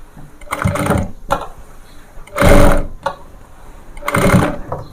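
An electric sewing machine stitches gathered frills onto a girl's frock in three loud, close bursts of fast whirring, with quieter pauses between runs as the cloth is moved by hand.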